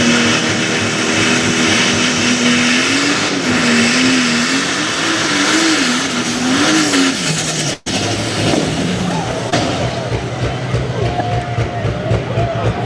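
Race car crash footage from a local short-track event, with a loud engine revving and sliding through the turn, then a sharp dropout and a harsher, broken rumble as the car tears up, while a commentator talks over it.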